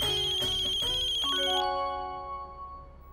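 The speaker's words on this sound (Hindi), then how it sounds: "टुकू की टीचर का फोन है।" A telephone ringtone plays alone, a bright electronic melody of repeating tones that rings steadily and then fades into a softer sustained chime, in an indoor family scene.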